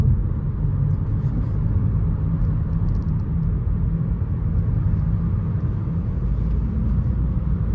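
A 2021 Mitsubishi Outlander Sport GT driving through turns, heard from inside as a steady low road and engine rumble with no talking.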